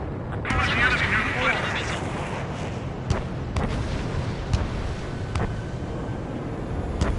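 Missile strikes and explosions in a console video game: a rumbling low roar carries sharp distant bangs and cracks at irregular intervals, with a voice talking over part of it.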